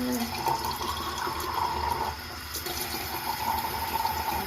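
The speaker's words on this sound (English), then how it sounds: "turn on this water." Water running steadily from a tap into a sink, a continuous hissing splash that carries on with a brief dip midway, with a voice audible over it.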